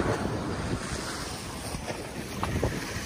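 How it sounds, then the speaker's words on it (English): Waves from San Diego Bay wash in beside a beachfront home on Coronado Island, a steady hiss of surf mixed with gusty wind buffeting the microphone, with no talk. "San Diego Bay waves are beating it."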